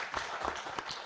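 Applause from an audience after a talk at a research pitch event, heard faintly as a short, steady wash of clapping with no speech over it.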